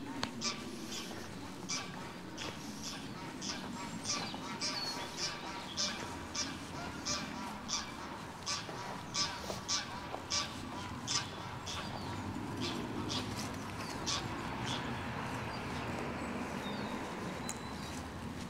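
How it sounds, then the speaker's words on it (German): Geese and ducks at a village pond, with repeated honks and quacks rising over a steady outdoor background throughout, the calls coming fairly close in an irregular rhythm. "Der Dorfteich mit Enten, also Ententeich. mit Gänsen."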